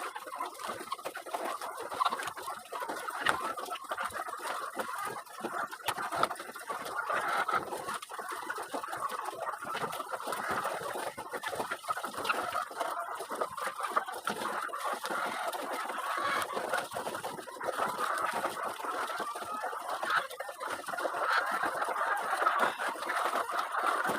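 Hens at ready-to-lay age cluck steadily through a busy feeding session, many birds overlapping in a dense, continuous chorus at moderate distance with no talk.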